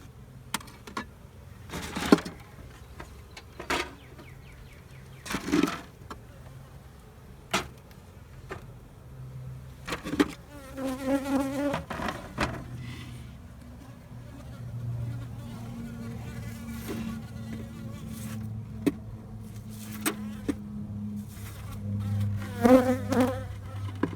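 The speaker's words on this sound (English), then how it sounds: "There's a whole bunch of bees towards the front there as well." Many honeybees from a swarm buzz nearby in overlapping drones, rising and falling, with individual bees zipping close past the microphone.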